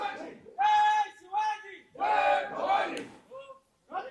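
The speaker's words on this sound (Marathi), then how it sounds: "लेफ्टनंट कर्नल प्रसाद पुरोहित यांच्या घरासमोर असा जल्लोष केला जातोय" A crowd celebrates outside Lt Col Prasad Purohit's house in Pune, with loud bursts of shouting and chanting voices coming in waves with short pauses between them.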